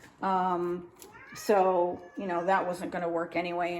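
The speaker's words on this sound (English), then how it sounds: "that's my cat meowing" A pet cat lets out a string of loud, close meows, three or four drawn-out cries in quick succession, while a person talks over them.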